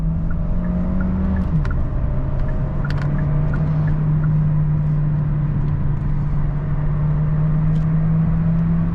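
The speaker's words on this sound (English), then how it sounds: "Let's go full throttle." A 2023 Hyundai Tucson Hybrid with a 1.6 turbo engine accelerates at full throttle, heard from inside as a loud steady engine drone that drops slightly in pitch early on and then holds, with no talk.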